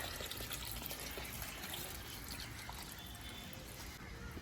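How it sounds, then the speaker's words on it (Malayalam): Packet milk poured from a carton into simmering mushroom gravy in a kitchen, a steady liquid pouring wash running continuously for several seconds with no talk over it. "അപ്പം നമ്മൾ ഒരു പാക്കറ്റ് പാൽ ഒഴിക്കുന്നുണ്ട്."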